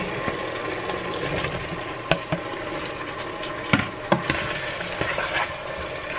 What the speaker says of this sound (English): I'm going to go ahead and add my green beans in there